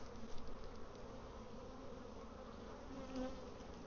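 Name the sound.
honeybees buzzing in a beehive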